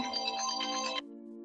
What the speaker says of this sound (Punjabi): ਡੈਡੀ ਜੀ ਦਾ ਫੋਨ ਆ